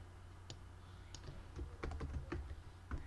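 Close, quiet keystrokes on a computer keyboard as Python code is typed, irregular taps and clusters of clicks with short pauses between them.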